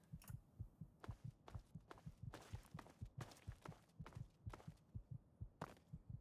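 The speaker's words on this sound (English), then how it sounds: "I could hear my heartbeat" Low-health heartbeat in Fallout 3: a steady, thumping lub-dub pulse repeating at a quick even rhythm, with brief clicks and shuffles layered over it.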